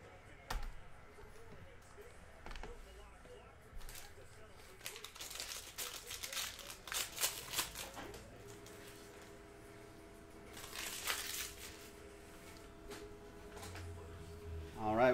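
Packs of 2019-20 Panini Chronicles basketball trading cards are torn open and handled, with crinkling foil, ripping and card shuffling in scattered bursts over quiet room noise, and faint voices now and then.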